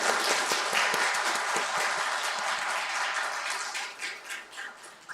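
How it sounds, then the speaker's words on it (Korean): A church congregation at a Sunday worship service applauds together, a dense wash of clapping that holds steady and then thins out toward the end. "박수하겠습니다."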